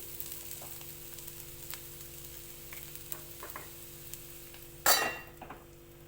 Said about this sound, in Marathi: थोडंसं मी शेंगदाण्याचं कूट टाकून घेते आता मिक्स करून घेते